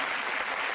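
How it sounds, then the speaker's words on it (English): Dense, loud applause from a studio audience at a comedy quiz show taping, a continuous wash of many hands clapping without break. "Give him a round of applause."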